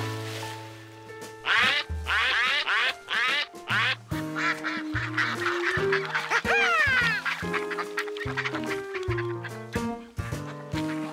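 Cartoon ducks quack in a lively burst on a river, many overlapping nasal calls in quick, bouncy runs mixed with playful musical tones, loud and close throughout.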